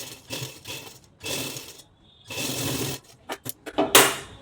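A sewing machine stitches the front part of a blouse to its lining in several close, loud runs of rapid mechanical chatter separated by pauses, ending in a string of short, quick bursts.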